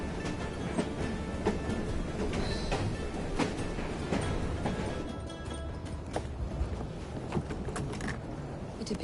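A train rolls along in Assassin's Creed Syndicate, its steady rumble and rhythmic wheel clatter continuing throughout with periodic sharp clacks, fairly loud and close, with no one talking.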